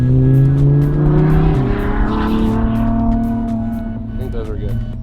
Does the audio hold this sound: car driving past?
yes